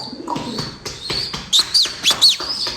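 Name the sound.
pigeons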